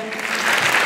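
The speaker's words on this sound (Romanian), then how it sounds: "Primim acum în aplauze furtunoase" Loud, dense applause from a concert audience welcoming a choir onto the stage, a steady roar of clapping hands that swells slightly throughout.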